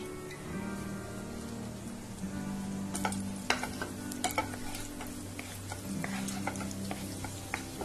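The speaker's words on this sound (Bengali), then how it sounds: "তেলটা গরম হয়ে গেছে, এবার এর মধ্যে দিয়ে দেব আদা আর রসুনের কুচিটা।" Chopped ginger and garlic sizzle in hot white oil for crispy baby corn chilli, a steady close hiss broken by sharp spatula clicks and scrapes against the pan.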